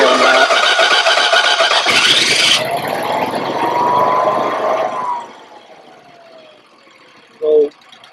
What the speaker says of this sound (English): the generator started up, ran, and then I just pressed the off button to shut it down